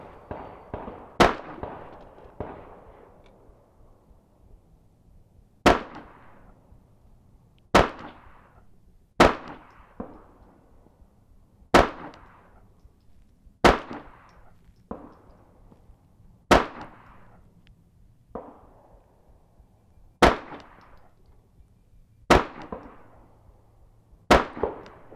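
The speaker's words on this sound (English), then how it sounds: "shot on it again with the 10-22. Shot a few rounds, did an adjustment, shot some more rounds" Sharp cracks from a Ruger 10/22 rimfire rifle ring out at an outdoor range, about a dozen single shots spaced a second or more apart, each with a short decaying echo.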